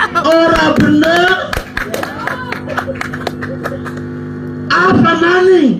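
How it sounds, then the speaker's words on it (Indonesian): An audience breaks into clapping applause during a religious talk, bursts of hand claps mixed with a speaking voice that pauses and resumes over it. "Tepuk tangan."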